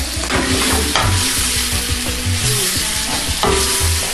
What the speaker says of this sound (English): It's all about just mixing the saltfish, the butter beans with all the vegetables inside.